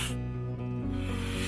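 Rough sandpaper rubs off high spots on a lifeboat's painted bottom, a steady close rasping scrape running unbroken, with no talking.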